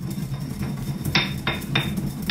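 Whole spices for chicken tagine are crushed and ground by hand, giving sharp repeated clinks and knocks at an uneven rhythm over a low rumbling grind, close up with no talking.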